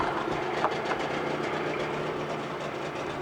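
A 1992 Johnson 30hp two-stroke outboard with a 15-inch tiller and manual start runs as a loud, steady, close-up mechanical drone that holds evenly throughout, with no talking.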